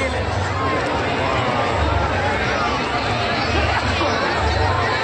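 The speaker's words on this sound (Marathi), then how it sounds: "आज संडेचे दिवस असल्यामुळे भरपूर गर्दी आहे." Dense crowd chatter at a busy Sunday fair in Solapur, a steady wash of many voices and footsteps close around, with no single speaker standing out.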